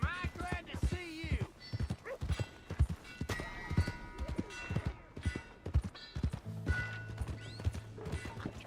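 A horse's hooves clip-clop in uneven, close steps in Red Dead Redemption 2, mixed with game effects and a faint whinny, while someone speaks over them.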